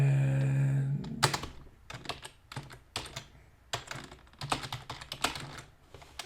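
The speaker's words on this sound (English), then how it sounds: "notice I'm not typing it right" Keys on a computer keyboard clatter in quick irregular bursts, close and crisp, with short gaps between runs of keystrokes.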